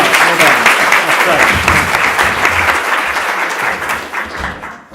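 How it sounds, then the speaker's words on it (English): A big round of applause for a panel at the Animas Summit 2015, dense and loud from the start, with speech and cheers mixed in before the clapping thins out at the end. "I'd just like you to do a big round of applause for the panel, please."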